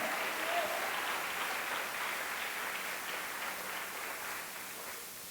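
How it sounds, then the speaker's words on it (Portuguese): Congregation applause during a church sermon, a soft, continuous wash of many hands clapping in a large hall, heard from a distance and fading gently toward the end. "Dê um aplauso a esse Deus."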